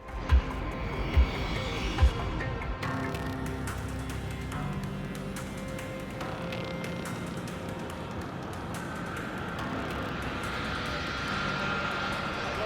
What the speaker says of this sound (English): the aircraft's powerful engines roar to life once more as it prepares for takeoff